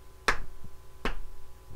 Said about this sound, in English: Let's clap. Let's clap 5 times.